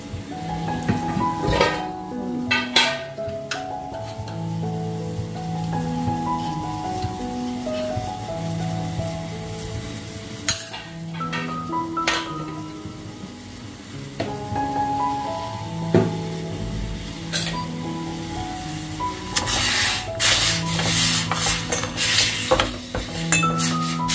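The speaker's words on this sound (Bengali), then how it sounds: "তেলের জারটা সুন্দর করে ধুয়ে নিছি" A kitchen oil jar being washed and scrubbed, with clinks and knocks of the container and splashing water running throughout, and a louder burst of clattering near the end.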